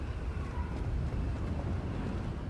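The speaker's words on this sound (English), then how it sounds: "Very windy indeed." Wind blowing steadily through a Hogwarts Legacy game scene, a constant low rushing roar that stays loud and even throughout with no talking over it.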